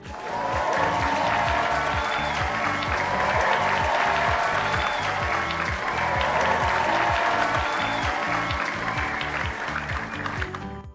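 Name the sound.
audience applause for the winning teams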